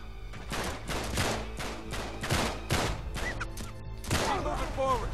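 Rapid bursts of enemy sniper and rifle gunfire rake an ambush in the Uncharted 3 video game, loud repeated cracks with sharp ricochets and sporadic low thuds, voices occasionally heard underneath.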